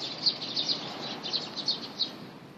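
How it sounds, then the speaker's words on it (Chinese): Sparrows chirp in a series of short, high twittering calls at a steady distance over a constant outdoor hiss, with no voices. "很多麻雀在这边。"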